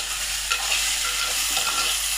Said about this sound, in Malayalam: ഇത് ഉള്ളിയും ചേനയും ഒന്ന് വെളിച്ചെണ്ണയിൽ ഒന്ന് വഴണ്ട് വന്നിട്ടുണ്ട്